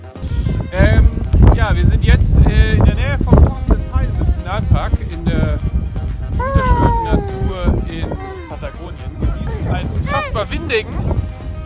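Strong, gusty wind rushes outdoors on a hiking day in Patagonia and buffets the microphone with loud low rumbling. Adults and children talk throughout over the wind.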